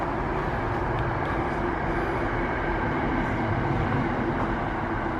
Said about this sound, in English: You can still hear the trains.